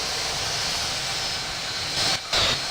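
An airliner on approach to the runway in the Infinite Flight game, a steady jet engine roar with a brief swell near the end, loud and constant with no voices.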